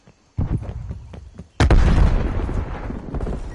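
A frag grenade going off in a shooter video game, preceded by a few soft taps and thuds, then a sudden loud close blast with a long rumbling tail.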